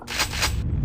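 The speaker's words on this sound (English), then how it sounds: "Shotgun." A Quake 2 shotgun fires in two quick, loud blasts close together, followed by a lower rumbling tail.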